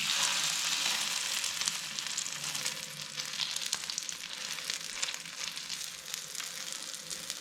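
Kababs fry in hot oil with a steady, close sizzle and crackle that continues without a break, with no voices.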